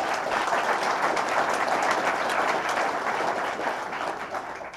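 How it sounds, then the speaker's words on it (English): A crowd at a government project announcement in downtown Rome gives a round of applause, dense continuous clapping that fills the room and fades slightly at the end. "Let's give them a round of applause."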